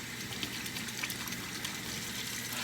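Hot tap water runs steadily into a sink as hands are washed in a kitchen. The flow is soft, continuous and gurgling, with small splashes and no talking.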